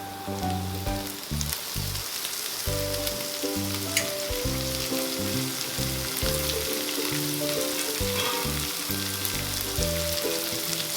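Steady sizzling and crackling of chopped bitter gourd frying in a hot pan, continuous and fairly loud, with a low rhythmic hum underneath and no talking.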